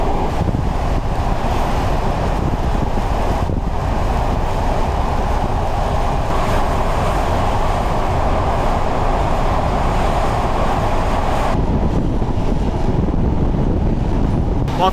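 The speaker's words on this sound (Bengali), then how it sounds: "আমি বুঝতে পারতেছি না জায়গায় এত বাতাস এই জায়গাটায়।" Strong wind roars continuously and loudly in an open place in Bangladesh, buffeting the microphone in a steady broadband rush with no voices.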